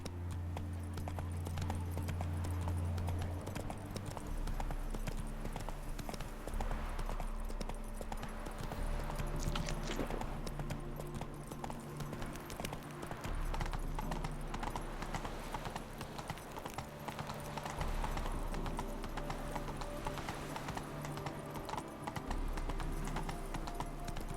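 Galloping hooves of the horse Roach in Witcher 3 pound in a steady rapid clip-clop rhythm throughout, over a low droning game soundtrack.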